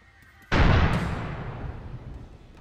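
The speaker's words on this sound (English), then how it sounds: "We're getting more explosions in the tunnel." A loud explosion erupts in a road tunnel during a video game police shootout, a sudden sharp blast followed by a long rumbling, echoing decay that slowly fades over a couple of seconds.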